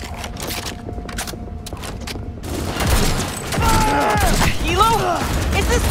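Gunfire in Cyberpunk 2077 during a heavy firefight, with dense rattling bursts throughout, a thick wash of shots and explosions in the second half, and shouted voices mixed in.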